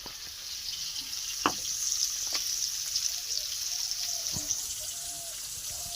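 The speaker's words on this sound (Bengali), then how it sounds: "মা মাছ ভাজছে" Silver carp pieces fry in a pan in a home kitchen. A soft, steady sizzle carries on throughout, broken by a few sharp pops and spits of oil, with no voices.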